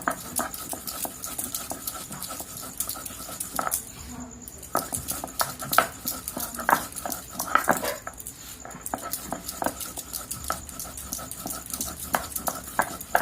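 Fennel seeds and cardamom pods are crushed on a grinding stone, the stone pestle knocking and grinding in rapid, uneven close strokes with brief pauses.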